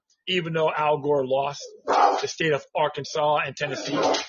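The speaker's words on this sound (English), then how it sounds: "That's my dog communicating." A dog barks and yips in short bursts close by, under continuous talk from someone speaking over the top.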